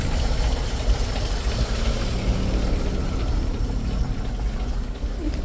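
A new GAZ-53 truck engine idles steadily, a continuous low rumble with a faint knocking texture, close and unchanging throughout with no voices.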